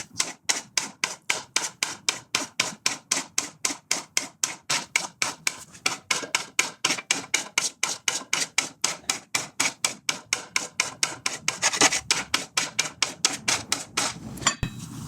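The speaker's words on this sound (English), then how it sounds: "quick skim over with a body file to a fairly rough file" A body file rasps across a metal fuel tank in quick, even back-and-forth strokes, about four per second, close and steady throughout.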